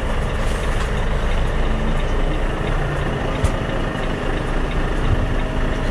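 A container truck pulls in nearby on a street, its diesel engine rumbling steadily and close with a brief air-brake hiss, the drone continuous throughout without a break.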